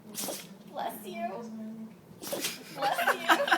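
A Shih Tzu dog sneezing, short sharp snorts close by, including a burst near the start and a cluster toward the end, mixed in with a person talking and chuckling.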